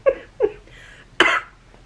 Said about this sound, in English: This cough needs to go away.